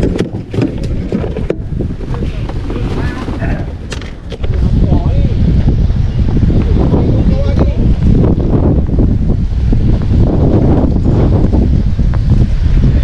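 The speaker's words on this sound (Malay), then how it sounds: "Oh, angin kuat." Strong, gusty wind buffeting the microphone on a boat by a river with a loud roaring rush, growing heavier midway, while a voice speaks briefly.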